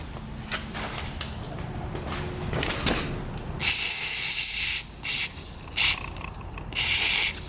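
Penetrating oil sprays onto a dirt bike part in several sharp hissing bursts: one long burst, then three short ones, after some quieter rubbing and handling noises.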